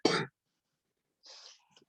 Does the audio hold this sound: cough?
yes